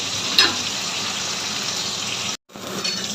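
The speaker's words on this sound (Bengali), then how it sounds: "মাছটা একটু কড়া করেই ভাজবো" Pond fish fry hard in hot oil in a home kitchen, giving a steady, close, crackling sizzle that briefly cuts out near the end, then resumes.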